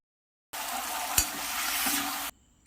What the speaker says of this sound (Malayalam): ഇടയ്ക്ക് 1-2 പ്രാവശ്യം ഒന്ന് ഇളക്കി കൊടുക്കണം.